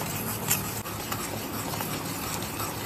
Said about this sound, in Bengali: এইভাবে একটু নাড়তে হবে গুড়টাকে জোরে দিয়ে 5-10 মিনিটের মতো